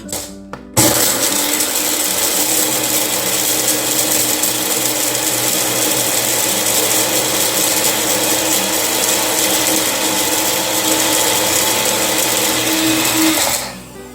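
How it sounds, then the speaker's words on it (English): A blender whirs loudly and steadily for over ten seconds, crushing cloves with a grinding, rattling mechanical drone before cutting off abruptly. "now that we have put all our clove in the blender, the next thing to do is to crush this down"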